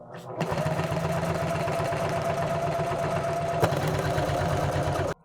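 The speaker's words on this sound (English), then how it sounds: "Again, super loud, so 1000D Cordura just gets really loud on these home machines." A Janome HD3000 home sewing machine stitches through heavy 1000D Cordura fabric, a loud, rapid, even mechanical clatter running for about five seconds before stopping abruptly, with a single sharp click partway through.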